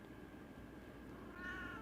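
A quiet cat meow rises near the end over faint background noise, a single short call.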